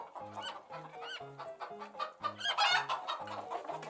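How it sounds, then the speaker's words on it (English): A hen clucking in a repeated series of short, rhythmic clucks, close and clear, with no talk over it. "Hen, clucking sounds."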